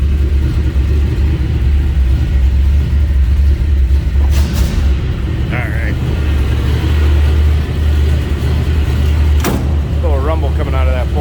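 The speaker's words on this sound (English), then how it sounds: "A little rumble coming out of that 403." A 1979 Pontiac Trans Am's 403 V8 idles with a deep, steady, loud rumble close by, while a voice speaks briefly and a couple of sharp clunks break in.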